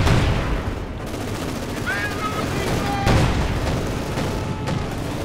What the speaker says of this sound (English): Incendiary barrage is going in on the troops. Panzer there not advancing. More Panzerwerfers.